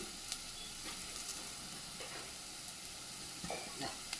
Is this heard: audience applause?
no